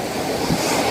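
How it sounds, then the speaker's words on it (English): Ocean surf washing up the shore at Barrio Barretto, a steady close rush of water with wind buffeting the microphone, lasting only a moment and with no voices. "See the waves? They're coming right up."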